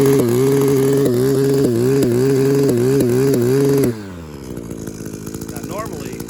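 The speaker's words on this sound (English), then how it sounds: "When it needs a coil, that's what it sounds like" An Echo PAS-266 powerhead engine with a failing ignition coil runs loud and steady with a pulsing buzz, then abruptly cuts out partway through, leaving a fading rattle and lower background noise.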